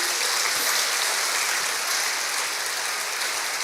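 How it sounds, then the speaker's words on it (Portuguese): A church congregation applauding during an evening worship service, with broad, even clapping that holds at a constant level throughout, slightly distant and reverberant with no speech. "você pode aplaudir a Ele."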